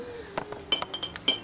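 A cooking pot is picked up in a home kitchen while preparing a black-eyed pea salad, giving a few light metallic clinks in quick succession, close and clear against a quiet room.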